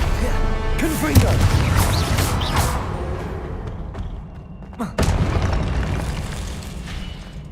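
Confringo blasting spell explosions in Hogwarts Legacy, with a deep boom near the start and another sharp blast with a crackling burst near the middle, set among game ambience and effects.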